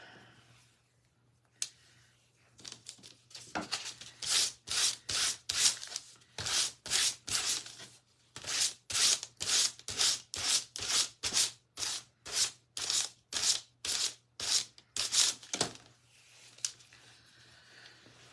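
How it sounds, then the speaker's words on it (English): A handmade wooden primitive star is sanded by hand in quick, regular back-and-forth rasping strokes. About two dozen close, crisp rubs come in a steady rhythm with brief pauses between them. "I'm gonna turn it over and stain, or not stain, but sand the other side"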